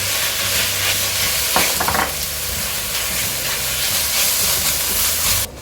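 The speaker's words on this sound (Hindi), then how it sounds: "इसको भी हम अच्छे से मिक्स कर लेंगे।" Sauces and ketchup being mixed in a hot pan for veg hakka noodles, a loud continuous sizzle and steamy hiss with a few scraping stirs near the middle, no voices.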